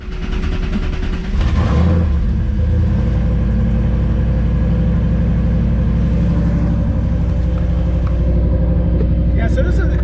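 Ford Mustang Foxbody engine cranking and catching, then settling into a loud, lumpy idle close by with a few blips of the throttle, while people talk over it.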